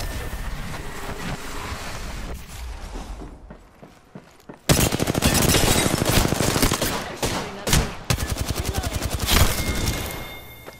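Gunfire in the Apex Legends video game bursts out after a short, rumbling lead-in, with loud, rapid volleys of shots that stop and start in close succession.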